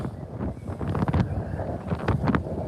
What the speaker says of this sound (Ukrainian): Оце вітер.